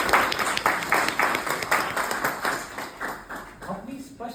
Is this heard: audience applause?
yes